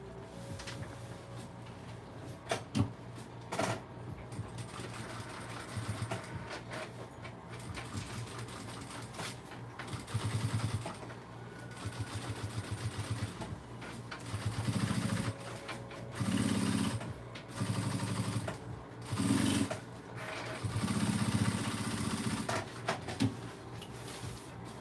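A sewing machine topstitching a tote bag, running in repeated short bursts of steady mechanical whirring and needle clatter, close and fairly quiet, with no talking.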